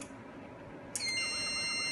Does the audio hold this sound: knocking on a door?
no